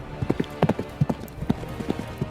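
A horse's hooves clip-clop at a steady walking rhythm, crisp and close, in an old radio drama.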